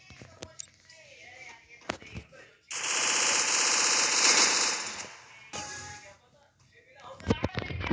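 An MP40 submachine gun in Free Fire lets off one long burst of rapid automatic fire lasting about two seconds, set between scattered game sounds and quiet stretches.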